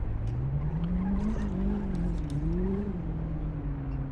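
A BMW M3 drifting sideways through city traffic in the City Car Driving game: a loud, steady engine drone with a wavering pitch and a faint tire-squeal edge, carrying on without a break.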